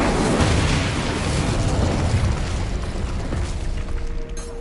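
The Incendio fire spell is cast in the Hogwarts Legacy video game, producing a loud, dense roaring burst of flame that rumbles on for several seconds before tapering slightly at the end.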